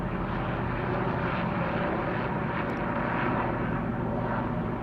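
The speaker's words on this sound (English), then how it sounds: "Another helicopter." Helicopter flying overhead at dusk: a continuous, loud, even engine drone that stays steady throughout, with no voices.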